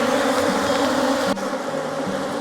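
Honey bees buzzing thickly around an open hive during a morning apiary inspection, a loud, dense, continuous drone with individual bees passing close.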